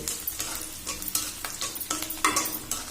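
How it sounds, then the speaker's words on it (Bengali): Onion, garlic, cinnamon, cardamom, cloves, peppercorns and bay leaf fry in oil in a pan while a utensil stirs them, a steady close sizzle broken by repeated scraping strokes, with no voices. "পেঁয়াজ, রসুন, দারচিনি, সাদা এলাচ, লবঙ্গ, গোলমরিচ, তেজপাতা দিয়ে দিয়েছি। আস্তে আস্তে নাড়িয়ে একটু লাল হয়ে আসলে"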